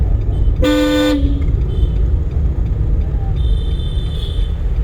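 A car passes on the road during a driving lesson, a steady traffic rumble throughout with one short, loud horn toot near the start and a faint whine later.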